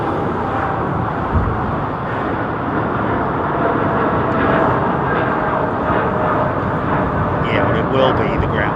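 Aircraft coming in to land at London Heathrow Airport, a loud continuous roar of jet engines filling the scene throughout, with a person talking over it.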